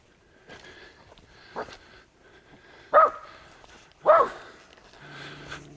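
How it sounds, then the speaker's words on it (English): A dog gives a few soft woofs followed by two louder, sharper barks, fairly close, with quiet pauses between them. "What you barking at, Doc?"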